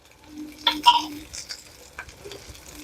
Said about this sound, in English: I think I'm going to put the sauce in.